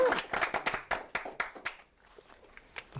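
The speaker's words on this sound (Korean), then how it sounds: "박수 부탁드리겠습니다" A small audience applauds a guest author at a live book forum talk, a brief burst of quick claps close by that thins out and fades after a couple of seconds.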